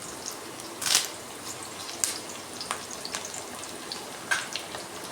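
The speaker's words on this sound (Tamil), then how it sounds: "கருவேப்பிலை போட்டுட்டு நல்லா வதக்கி விட்டுக்கலாம்" Onion and curry leaves frying in a pan for a white pumpkin dish, a soft steady sizzle with a few sharper crackles and pops, close but fairly quiet, no talking.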